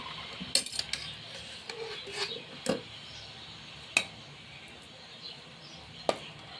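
A spoon clinks against a pan while ghee is scooped in for roasting semolina, making a few quiet, scattered metallic taps and knocks over a low background.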